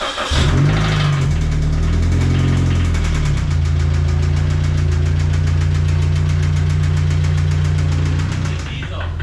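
A diesel engine runs loud and steady, with a deep low drone and a rapid, regular knocking clatter throughout, after a brief rise in revs near the start.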